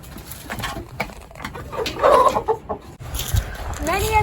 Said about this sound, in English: This is the chicken coop. We have about 30 chickens, hens, and 3 roosters.